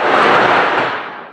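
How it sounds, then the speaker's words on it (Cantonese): Firecrackers go off at a village of watchtowers in Kaiping, producing a loud, dense crackling burst that fills the moment and fades slightly toward the end. "燒炮仗"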